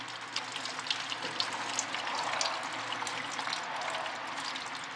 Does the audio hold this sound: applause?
no